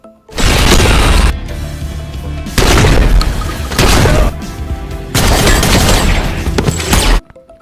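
Bursts of heavy gunfire and booming blasts from a John Wick 3 shootout, loud and dense, in several long volleys separated by brief lulls, with a cinematic, layered feel.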